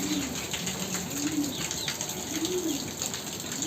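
Pigeons coo in soft, repeated rising and falling calls at a moderate distance from a rooftop coop after a cyclone, with steady background noise and no talk.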